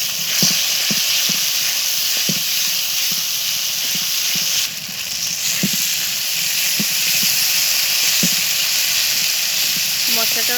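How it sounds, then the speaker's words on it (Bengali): Spices sizzling in hot oil in a pan for a beef curry, a loud continuous close-up hiss and crackle with regular soft knocks of a spoon stirring throughout. "মশলাটা ভালো করে ভাজা হয়ে গেছে"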